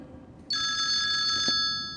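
A telephone rings once in a studio as a viewer calls in, a bright electronic trill lasting about a second, clear and close, then cut off.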